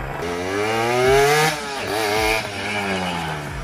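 A Yamaha MX King two-stroke motorcycle engine idles and revs, its buzzing rasp climbing in pitch, dropping back and rising again in short blips, loud and close with no talk.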